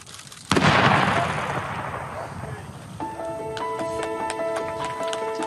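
Guns fire in one loud, close blast that rolls off into a long, fading rumble. Steady ringing tones then take over.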